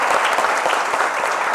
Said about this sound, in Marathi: मग टाळ्या वाजूया परत एकदा.